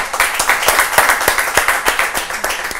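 A group claps in steady, fairly rhythmic applause, loud and close, the individual claps distinct across the short burst with no speech over it.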